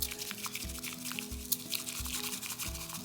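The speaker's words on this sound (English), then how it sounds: "you're going to whisk your matcha in M shapes or W." A bamboo whisk beats matcha tea in quick M or W strokes, making a close, wet, rhythmic frothing sound that repeats steadily and continuously.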